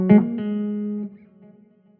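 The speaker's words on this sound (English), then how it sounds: "it's a delay in there. You hear it?" An electric guitar, a 335-style hollow-body with two humbuckers through a delay effect, rings out a single sustained note that cuts off, followed by faint echoing repeats trailing away.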